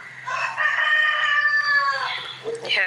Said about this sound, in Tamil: கோழி வேற கத்துது